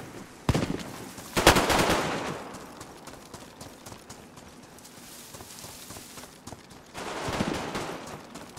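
Gunfire in a DayZ firefight: sharp broadband bursts crack out near the start, a heavier volley follows about a second later, then another loud burst comes near the end, with quieter rustling in between.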